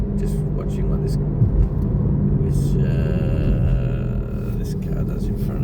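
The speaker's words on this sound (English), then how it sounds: "Oh, here comes a car." A car drives past on a Tasmanian road, its engine rumble and tyre noise heard from inside a moving vehicle with steady road hum, while a person talks over it throughout.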